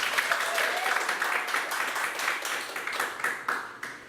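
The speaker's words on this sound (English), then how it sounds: "We will begin after a warm round of applause." Audience at an improv theater show applauds steadily, a dense wash of many hands clapping at close range, holding fairly even for the full stretch with slight swells and dips and no voices over it.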